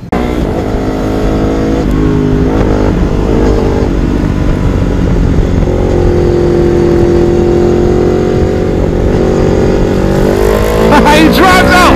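A 2018 Ducati 1299 Superleggera motorcycle on a race track, its engine roaring loud and steady with rising and falling pitch as it revs through gears, climbing sharply at the end; a voice speaks over it.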